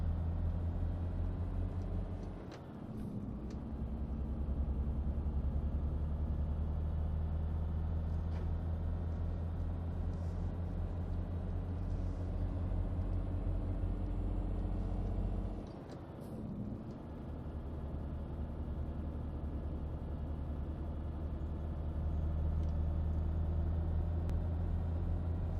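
Heavy truck driving in Euro Truck Simulator 2, a steady low engine drone and road rumble that runs continuously, with two brief dips where the engine note drops and rises again, likely gear shifts.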